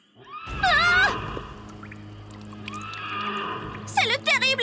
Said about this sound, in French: C'est le terrible hennissement du cheval sans tête!